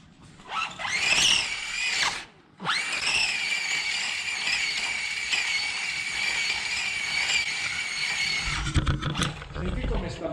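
A vintage Tamiya RC Ferrari F189 model car's electric motor whines at low revs, a steady high-pitched buzz broken by one brief dropout, ending with handling noise as voices talk nearby.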